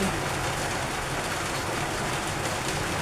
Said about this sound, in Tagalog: nakakatamad mamalingke kasi ang lakas ng ulan